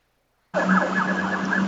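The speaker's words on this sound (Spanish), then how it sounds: "pasan por esta transitada calle acá en California, lo mismo patrullas, ambulancias, autos de bomberos" An emergency vehicle siren on a busy street in California starts abruptly after a short silence and holds steady, loud and close, with a wavering electronic wail and no voices over it.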